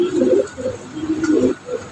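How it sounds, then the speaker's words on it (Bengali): A pair of Dragon Homer pigeons coos in soft, repeated low rolling phrases, close by, over a faint steady background hum. "আজকের ভিডিওর প্রথম কবুতর এই জোড়া ড্রাগন হুমার"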